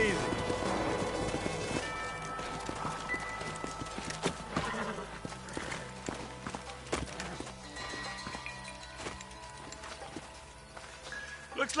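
Horses' hooves clip-clop in the Red Dead Redemption video game, a steady close rhythm of hoofbeats with an occasional whinny, while a voice talks over the scene and background game sound continues.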